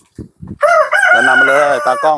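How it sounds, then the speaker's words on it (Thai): A rooster crows loudly and close at a plant nursery with a single long drawn-out cock-a-doodle-doo, preceded by a couple of short spoken syllables. "ขออภัยเสียงไก่ด้วยนะครับ"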